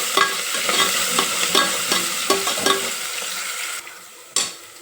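Fenugreek leaves fry in hot oil for a mutton curry, giving a steady loud sizzle with repeated clinks and scrapes of a stirring spoon against the pan, and a sharper knock near the end.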